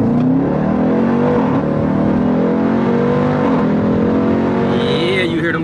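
A Jeep Grand Cherokee Trackhawk's 707-horsepower engine revs hard and close, its pitch climbing and dropping through several gear changes, with a rising whine near the end.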